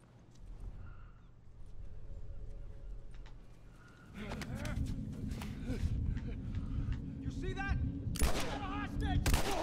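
Scattered gunshots in The Last of Us Remastered, quiet at first and then a denser stretch of sharp cracks mixed with ambient game noise, with a voice talking underneath.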